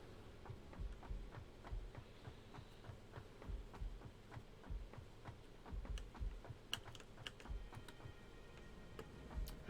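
Computer keyboard keys clicking steadily in a quiet room, a rapid, irregular run of light taps over a low hum, fairly close and with no talking.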